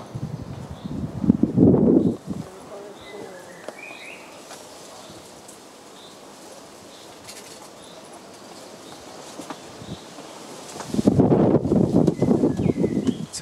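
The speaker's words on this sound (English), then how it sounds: "It's a very windy day today, which makes it a little bit coldish" Strong gusts hit the microphone outdoors at Licheń, Poland, in two loud rumbling bursts at the start and end, with quieter outdoor ambience and faint birdsong between.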